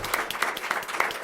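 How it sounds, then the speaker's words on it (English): An audience clapping after a political debate, a small crowd's scattered, uneven claps heard close, with individual hand strikes standing out. "let's give them all a round of applause"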